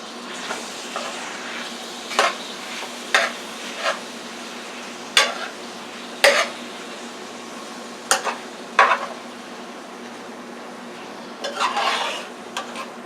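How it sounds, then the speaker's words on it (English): Salmon added to onions and oil in a frying pan sizzles steadily, with sharp utensil clinks and scraping stirs punctuating the frying at irregular intervals. "I just added this salmon to the onions with the oil that was already in there"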